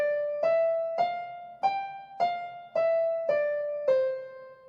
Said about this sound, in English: We're going to take that same 5-note scale.